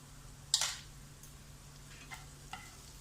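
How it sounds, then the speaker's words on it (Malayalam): Homemade chili powder and turmeric frying in a pan for fish curry with coconut, a soft sizzle broken by one sharp scraping stir and a couple of lighter clicks, close and fairly quiet. "ഇതൊന്ന് ചെറുതായിട്ട് ഈ പൊടികളൊക്കെ ഒന്ന് ഫ്രൈ ആവട്ടെ"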